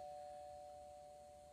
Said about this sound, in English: the iPad makes a doorbell sound